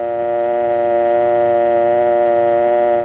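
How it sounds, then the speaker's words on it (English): A telephone dial tone hums as one loud, steady continuous tone for about three seconds, alone with no voices. "Then remove the receiver and listen for the dial tone."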